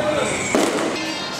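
Fireworks set off in residential streets in the Philippines during a neighborhood celebration, a sharp burst cracking out over a steady crackle and background noise, with voices faintly present.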